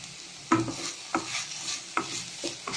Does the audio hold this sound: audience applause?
no